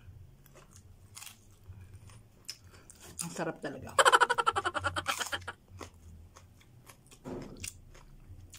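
Insulin plant leaves bitten and chewed, a burst of close crisp crunching bites in a quick series, mixed with someone speaking before and after.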